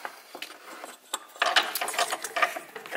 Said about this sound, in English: So, we're just going to stick this one back on to the front pulley,